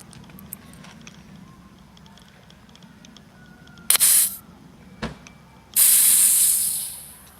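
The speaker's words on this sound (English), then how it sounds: "removing all the air from the chambers" Air is let out of the chambers of a Fox Float bicycle suspension fork: a short sharp hiss, a quick puff, then a longer loud hiss that slowly fades, over quiet background.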